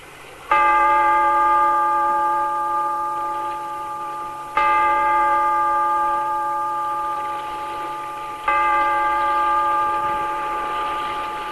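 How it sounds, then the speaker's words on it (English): Deep resonant bell tolling in an old radio drama, three slow strikes about four seconds apart, each ringing out with a long humming decay, loud and alone with no voices. "Bellkeeper, toll the bell"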